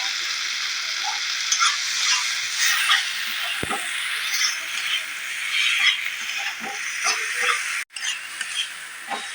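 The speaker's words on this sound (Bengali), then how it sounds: "পেঁয়াজটা ভাজা ভাজা হয়ে গেছে।" Onions frying in oil in a pan with chili powder added, a steady broadband sizzle with occasional stirring scrapes and clicks, close and fairly loud throughout.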